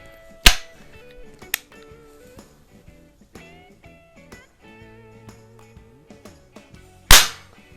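A .177 pellet gun fires at used small pistol or rifle primers. Three sharp, snapping cracks sound close by, with the first and last loudest. Between the shots there are faint clicks and ringing tones, and no one speaks.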